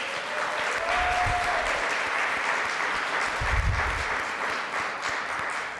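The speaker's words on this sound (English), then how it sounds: "if you would please join me in a very hearty round of applause for our colleague Taylor Hansen" Hearty applause from a conference audience for a colleague at a digital learning and work event, steady dense clapping filling the room throughout, loud and sustained with a few whoops or voices briefly rising within it.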